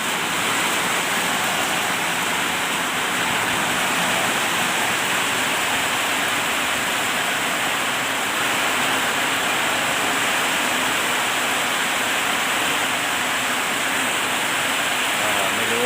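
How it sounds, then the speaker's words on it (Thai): Heavy rain pours down steadily outdoors, a dense, continuous broadband hiss and roar at constant loudness for the whole stretch, with no breaks and no voices. "จะแรงเท่าไหร่นะวันนี้ฝนตกวันนี้ครับดูครับ บรรยากาศที่เขา ตก แรงน่าดูเลยครับในวันนี้นะครับ"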